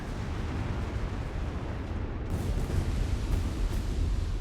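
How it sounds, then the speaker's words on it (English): Artillery shelling a city in Company of Heroes 3, a continuous rumbling bombardment with repeated dull impacts that grow somewhat louder in the second half. "can bombard the city"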